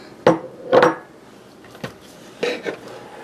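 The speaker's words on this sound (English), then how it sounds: "I'm adding in 2 tablespoons of melted butter, and we're just gonna mix this together" Sugar, flour and melted butter for a cake roll batter being mixed in a bowl, heard as a few separate close utensil knocks and clinks against the bowl, with short pauses between them.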